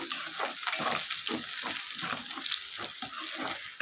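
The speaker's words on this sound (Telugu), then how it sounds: "ఈ అల్లం వెల్లుల్లి పేస్ట్ కూడా ఎర్రగా వేగాలి" Ginger garlic paste frying in hot oil for a prawn pickle, a continuous crackling sizzle with soft stirring scrapes, close and steady, without speech.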